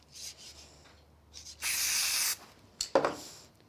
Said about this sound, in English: I'm going to use a little bit of spray glue on it.